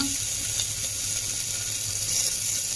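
Chopped onion dropped into a hot pan of oil with curry leaves for chicken curry, giving a steady close sizzle and hiss that runs evenly throughout.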